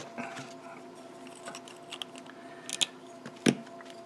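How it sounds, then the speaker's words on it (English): A reamer turning clockwise inside a Savinelli briar pipe bowl, giving soft, close scraping and crunching with a few sharper clicks, fairly quiet and with no talk. "Remember, these have a directionality to them, so you always want to turn them in this case, a clockwise direction."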